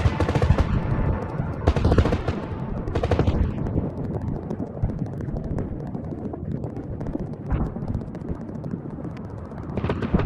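Continuous gunfire from Russian pilots firing at a fast-moving Ukrainian combat helicopter, a dense, rapid, unbroken clatter of shots that holds loud throughout, with wind-like roar mixed in.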